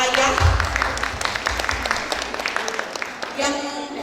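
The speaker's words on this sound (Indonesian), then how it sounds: "tepuk tangan untuk para ayah" At a parenting session, an audience claps for the fathers present, a moderate round of applause with scattered sharp hand claps and some voices underneath.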